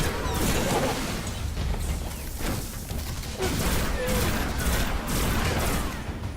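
Video game gunfire in Destiny on Xbox One: a dense, continuous barrage of shots and impacts fills the whole stretch with loud, unbroken combat noise.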